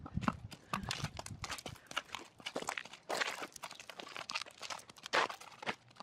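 Hooves of a 2007 Foxtrotter mare move sideways on the ground in quiet, irregular crunching footfalls, with small scuffs and crinkles mixed in.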